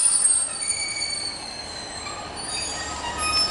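A Class 153 diesel unit pulls away from the platform at Nuneaton on the West Coast Main Line, its wheels squealing in high, sustained tones over a steady rumble, with no voices.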